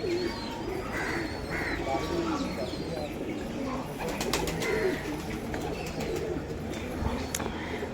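Soft, repeated cooing of pigeons kept at Gurdwara Nanak Jhira Sahib, mixed with scattered bird chirps, set against a steady outdoor background with distant voices.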